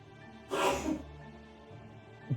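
A single sharp sneeze bursts out close by, followed by a quiet pause and a faint short sound near the end.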